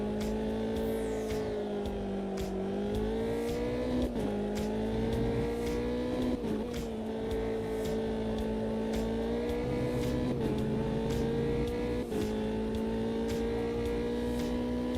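A naturally aspirated P3 race car engine in a sim racing game drones steadily at high revs, with repeated gear-shift dips and rises in pitch, loud and continuous.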